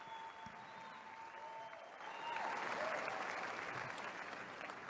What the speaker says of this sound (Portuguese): Sendo aplaudido após a fala.